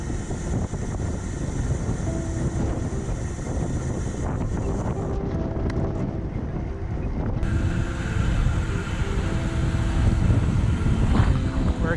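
Blustery wind buffeting the microphone during a bikepacking ride across Canada in Nova Scotia, a constant loud low rumble and roar with gusts that rise and fall, with no clear talking.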